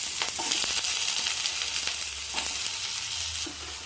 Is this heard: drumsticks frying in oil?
yes